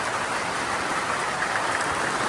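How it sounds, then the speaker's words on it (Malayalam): Rain beginning to fall at a trekking camp in Nepal, a soft, even hiss of drops on surfaces with no distinct rhythm, steady and close. "മഴ പെയ്തു തുടങ്ങിക്ക്"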